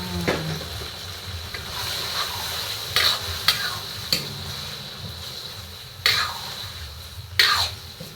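Chicken livers drop into a hot pan for adobo and sizzle steadily, with several sharp scrapes and clanks of a spoon stirring against the pan at intervals.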